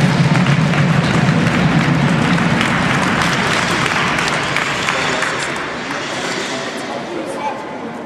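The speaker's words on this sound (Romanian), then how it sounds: "Și aplauze vă rugăm pentru cele două echipe de la Basket Club Eco Siget." An audience at a youth basketball award ceremony applauds the two teams of Basket Club Eco Sighet, a dense, loud, continuous clapping that carries on steadily and slowly tapers off.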